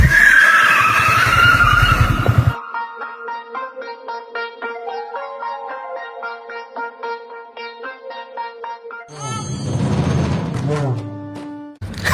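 Car skidding in a racing video game: a loud tire screech at the start, then a stretch of game music, and another burst of skidding and engine noise near the end.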